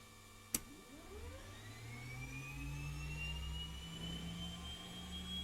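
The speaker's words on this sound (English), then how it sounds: "Let's start the left engine." A King Air C90 left turboprop engine starts up in X-Plane 12: a sharp click, then a rising turbine whine climbing steadily in pitch over a deepening low rumble, growing slightly louder as it spools up.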